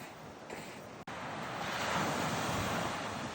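Sea waves on a beach in Korea near Odaesan, a continuous broad roar of surf building slightly toward the end, with wind buffeting the microphone and a brief dropout early on.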